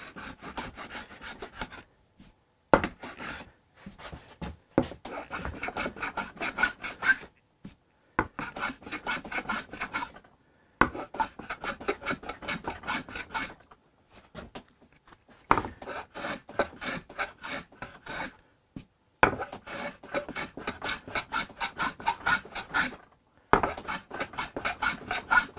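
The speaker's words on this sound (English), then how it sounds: "I really need to be planing towards the heel" Wood is planed on a Hofner Galaxie guitar under restoration, giving close, scratchy rasping strokes in quick bursts separated by short silent pauses, repeated steadily.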